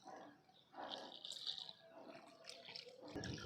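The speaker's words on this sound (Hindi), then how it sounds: "और अब हम इसमें पानी दे देंगे।" Fungicide-mixed water poured into a potted lemon plant, a steady splash and trickle into the soil that swells and fades over a few seconds, close and moderately loud with no talking.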